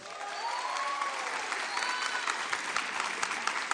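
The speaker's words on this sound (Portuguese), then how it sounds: "Salva de palmas para o palito de fósforo queimado do Wilson." Sustained applause from a TV studio audience on a Brazilian game show, many hands clapping evenly, with faint whistles and cheers over it.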